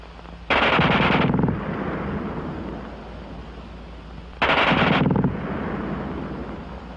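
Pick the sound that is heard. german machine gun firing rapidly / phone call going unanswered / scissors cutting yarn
german machine gun firing rapidly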